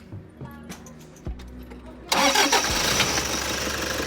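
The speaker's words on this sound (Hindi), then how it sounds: "एक बार भाई, ये इसका इंजन है D4D। हाँ भाई ऑन करना एक बारी।" A Toyota Fortuner's D4D 3000cc diesel engine cranks and catches, then settles into a loud, close idle with a steady rumble. Someone speaks briefly beforehand.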